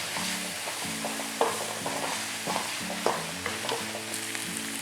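Soy sauce and red chilli sauce being stirred into gobi rice in a hot pan, with a continuous sizzle and a spoon scraping and knocking rhythmically against the pan, close and with no talking.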